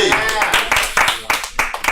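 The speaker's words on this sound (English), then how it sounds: "Give a round of applause for Phil Burns, everybody." Audience at a comedy night clapping in a brief burst of applause, dense and fairly loud, with voices mixed in.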